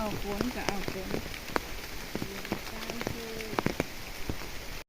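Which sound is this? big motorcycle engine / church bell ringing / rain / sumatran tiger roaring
rain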